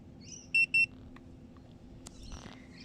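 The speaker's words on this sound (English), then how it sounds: "save and exit by holding down the set button until you hear 2 beeps" A weather sensor base station gives two short, clear electronic beeps in quick succession, close by in a quiet room, followed by faint clicks.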